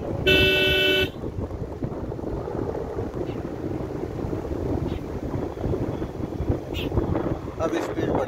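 A car horn blares loudly for about a second at a blind turn on the hill road to Nahargarh Fort, followed by steady engine and wind rumble from a moving vehicle, with a faint second toot near the end.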